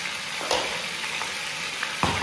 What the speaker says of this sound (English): Right, so it's sizzling.